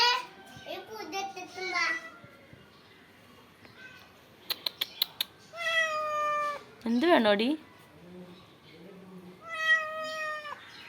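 A hungry cat meows a few times among children's and adults' voices, its short rising and falling calls coming close by between the talk.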